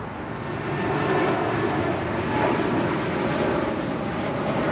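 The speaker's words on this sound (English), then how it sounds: "we got the Japan Airlines Dreamliner heading to Tokyo Narita, now rolling down 25 right" A Japan Airlines Boeing 787 Dreamliner rolls for takeoff on runway 25R at Los Angeles International Airport, its engines making a loud, steady roar that builds slightly and holds, with no voices.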